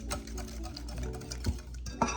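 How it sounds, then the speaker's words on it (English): A whisk clicks rhythmically against a bowl while pumpkin spice mix is beaten, quick light ticking taps repeated at close range with no voices. "So whisk that up some more."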